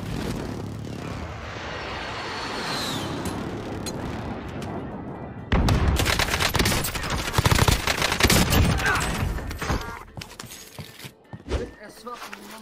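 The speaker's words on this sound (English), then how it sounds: "using an airstrike so that enemies can't hear you pushing" Airstrike explosions in Call of Duty Warzone: a dense, roaring barrage of blasts and crackling impacts erupts after a quieter rumbling stretch, booming close and loud before tapering off.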